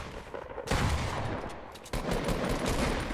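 Two loud, booming blasts from a pump shotgun in a video game, each followed by a sustained rumbling tail, heard close and without talk.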